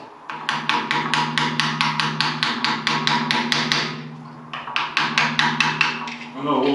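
A hammer taps metal on a Handley Page Halifax bomber propeller in a quick, steady series of sharp ringing strikes, pausing briefly before another run of blows; close and clear.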